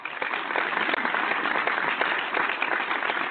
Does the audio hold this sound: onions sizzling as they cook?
no